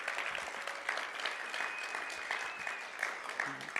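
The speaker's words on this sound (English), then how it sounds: "Can we all just give Randy a round of applause?" Faint, distant applause fills a church gathering, a steady wash of many hands clapping throughout with no clear voices over it.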